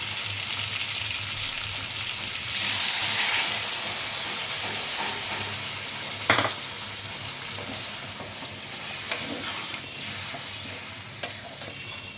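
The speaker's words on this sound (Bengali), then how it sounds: "এরপরে আমি অল্প একটু জল দেবো" Water poured into a pan of sizzling pumpkin and potato masala, a loud hissing burst of steam that swells and then settles into steady frying with occasional spatula knocks and scrapes; no voices.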